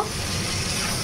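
Potato and pointed gourd pieces being stir-fried with salt hiss and crackle in a hot pan, a brief, steady close-up sizzle with soft stirring noise.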